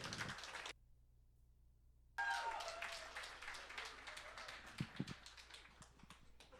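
Audience applause for a speaker at a science-and-fiction talk, a moderate crowd clapping steadily after a brief dropout, fading toward the end with a few louder taps.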